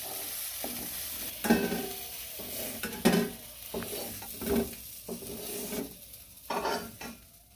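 Lemons for pickle sautéing in a pan, with soft steady frying under periodic louder scrapes and clinks of a spoon stirring against the metal, close by, no talk.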